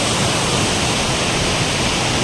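Rain-swollen water rushes over the rocks of Perunthenaruvi waterfall in a loud, close, unbroken roar that fills the whole clip with no voices.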